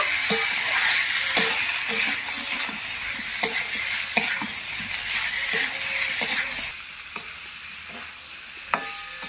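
Jackfruit pieces and fried potatoes are sautéed with spices in a pan for a vegetarian kaliya, giving a continuous loud sizzle broken by repeated knocks and scrapes of a spatula against the pan.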